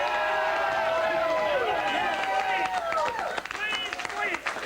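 Excited crowd at a campaign victory headquarters at the Copeland, loud continuous cheering and yelling with many overlapping high voices, some scattered claps.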